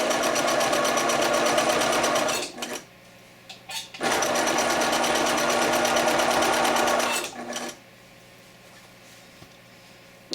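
A sewing machine stitches a chenille scarf in two long runs of fast, even needle chatter, close and loud, with a short pause between them and a quiet stretch at the end.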